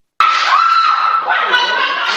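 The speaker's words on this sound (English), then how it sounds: "After a worker screams" A store worker screams during a jewelry-store smash and grab, one loud, sustained, high-pitched cry that starts suddenly and carries on for about two seconds, with faint crowd commotion behind it.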